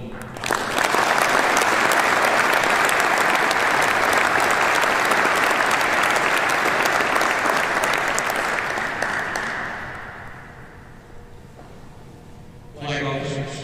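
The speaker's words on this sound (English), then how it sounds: "please join me in a round of applause" An audience applauds at a military change-of-command ceremony at the NATO AWACS air base. The clapping is dense and sustained for around nine seconds, then fades out, and a voice follows.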